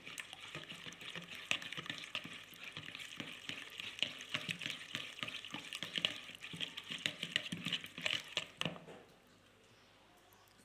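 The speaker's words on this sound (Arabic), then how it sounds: "من بعد نضيفو حبة البيض ونخلطوا المقادير" Melted, cooled butter and an egg are stirred together in a bowl for biscuit dough, giving a continuous wet, sloshing scrape with quick irregular strokes that stops abruptly near the end.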